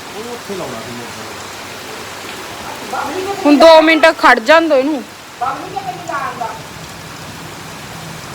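Heavy rain pours in a constant close wash of noise while a person talks over it for a few seconds in the middle.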